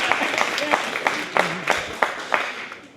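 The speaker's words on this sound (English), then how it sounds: "You guys could clap for that part." Wedding guests at a toast for Antonio and Grecia give a brief, uneven round of applause with scattered claps, a voice speaking over the clapping at moments.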